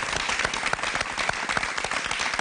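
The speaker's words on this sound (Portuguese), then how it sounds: "uma salva de palmas, por favor!" An audience at a live event gives a dense round of applause for weightlifting performers, many hands clapping rapidly and continuously at a steady, fairly loud level.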